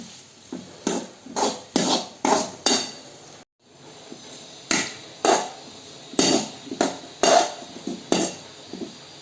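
Metal spoon scraping and clanking against a pan in repeated rhythmic strokes while green chilli and tomato are stirred into beef for a roast, close and clear with a short pause midway.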